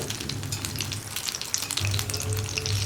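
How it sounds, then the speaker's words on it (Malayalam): Egg bonda, chutney-filled egg bajji, deep frying in hot oil, a dense, continuous close sizzle with bubbling crackle throughout, loud and steady with no voices. "ഇനി നമ്മൾ സാധാരണ ബജ്ജി ഫ്രൈ ചെയ്തെടുക്കുന്ന പോലെ തന്നെ ഫ്രൈ ചെയ്തെടുക്കുക"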